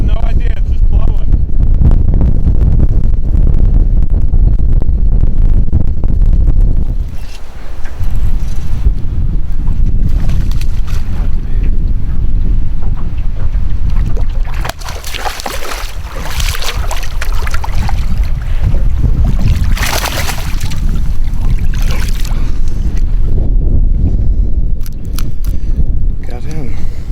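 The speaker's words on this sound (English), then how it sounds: "What do you think these gusts are? 30? 40?" Strong wind gusts buffet a boat on Liberty Reservoir during prespawn jig fishing, a loud continuous roar of wind noise on the microphone that swells and eases, with people talking throughout.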